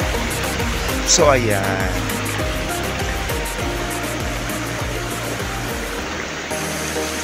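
A strong riverside stream flows in a steady, close rush of water that runs the whole time, with a voice briefly speaking over it.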